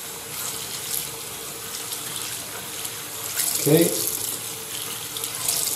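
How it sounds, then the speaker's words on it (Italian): Cold tap water runs steadily into a sink while a shaving brush is rinsed of soap beneath it, a continuous hiss with brief splashy surges, and a voice speaks a single short word. "Ah, sciacquo il sapone. Vi faccio vedere di nuovo come lo sciacquo. Acqua fredda, lo sciacquo completamente sotto."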